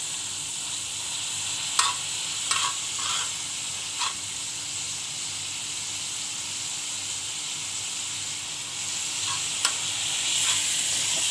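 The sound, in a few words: stirring milk with a spoon as it reduces into khoya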